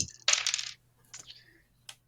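Dice rolled across a table during a Goblin Quest tabletop game, a bright clattering burst followed by a couple of smaller rattles and a final tick as they settle, close and sharp.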